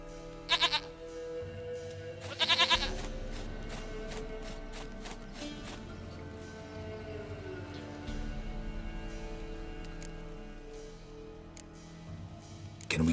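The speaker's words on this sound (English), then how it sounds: "Goat of mine, dearest, sweetest goat." Goat bleating in The Witcher 3 video game, two loud wavering bleats early on over a droning ambient music bed that carries on to the end.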